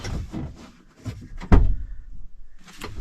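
A car door is opened, with a sharp clunk and latch release in the middle, surrounded by quieter rustling and handling sounds inside the vehicle.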